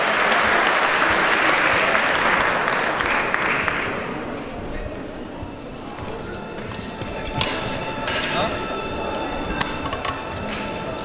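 Loud, sustained applause from a hall audience at a karate championship final, filling the first four seconds and then thinning into scattered claps and footsteps as the room settles.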